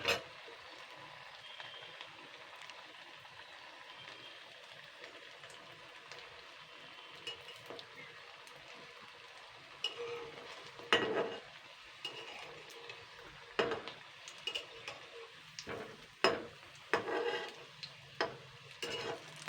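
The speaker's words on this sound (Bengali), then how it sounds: "এটাকে কিন্তু কম তেলেই কিন্তু ভাজতে হবে, বেশি আঁচে জোর দেওয়ার দরকার নেই।" Puffed rice chops fry gently in a little oil with a soft, low sizzle, then a series of clinks and scrapes as a spatula turns them in the pan, growing busier toward the end; there is no talking.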